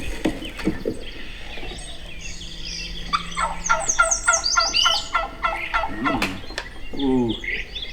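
Live turkey hens call repeatedly at close range, with a busy run of yelps and clucks that overlap and come in quick bursts.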